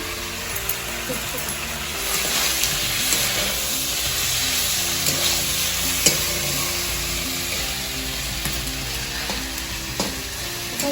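Ginger paste frying in a wok, a steady close sizzle with scattered stirring scrapes and small pops, continuous throughout at moderate loudness.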